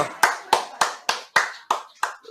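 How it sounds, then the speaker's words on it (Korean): A church congregation at a Sunday service claps in a steady rhythm, seven or eight loud, crisp claps spaced evenly, each ringing briefly in the room. "할렐루야 박수."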